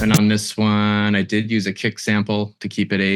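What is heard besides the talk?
No everyday noise stands out behind the speech.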